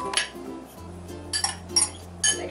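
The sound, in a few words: pineapple chunks dropped into a blender jar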